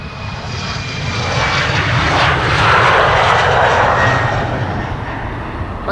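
An airplane departing Amsterdam Schiphol Airport roars past, a loud, broad engine rush that swells toward the middle and slowly eases, heard alone without talk.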